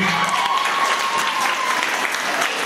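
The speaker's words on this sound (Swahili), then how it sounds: "Wapi makofi ya hii hao wazazi?" An audience gives the parents a burst of loud, dense applause at a launch event, and the clapping holds steady for the whole stretch.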